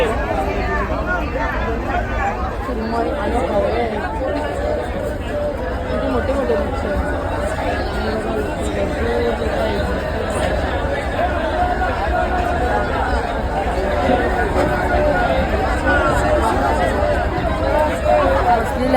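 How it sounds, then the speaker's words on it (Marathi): Steady, loud hubbub of many overlapping voices at a crowded fish-landing boat jetty, a continuous wash of chatter that holds level from start to finish with no pauses. "गर्दी आहे"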